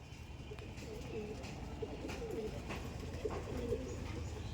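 Soft, low coos from Giribaz pigeons repeat through a steady murmur of background noise, fairly close and continuous for the whole stretch.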